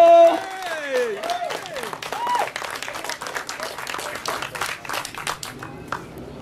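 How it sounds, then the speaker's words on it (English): An audience at a Walk Against Bullying event applauds singer Marissa Pontecorvo before the national anthem, with dense clapping and a few cheers and whoops from the crowd at the start, continuing steadily. "So once again, big round of applause. Give it up for Marissa Pontecorvo."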